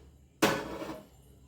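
A single sharp metallic clank as a metal vessel is set down on a kitchen surface while making batter for khakhariya bhajiya, a brief ringing knock that fades within half a second.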